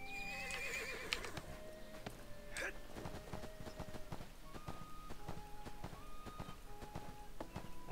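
Horse neighs and clip-clopping hooves from the fantasy MMO game ArcheAge, a loud whinny at the start followed by steady hoofbeats and scattered game effects throughout.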